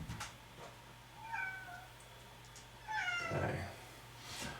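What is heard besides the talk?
cat meowing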